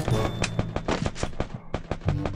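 Rapid M4A1 rifle shots in the Free Fire mobile shooter, a fast loud series of sharp cracks at a steady rhythm, close up and carrying on through the whole moment without pause.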